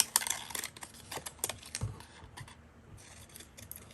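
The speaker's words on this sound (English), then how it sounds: "I'm just doing it with these scissors here" Quiet, irregular snips and crisp rustles of scissors cutting paper, close by, with short pauses between cuts and no voices.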